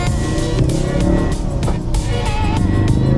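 Ford Focus RS with a Mountune quick-shift upgrade reversing in sport mode, its engine rumbling loudly and close with uneven revving pulses, no talking.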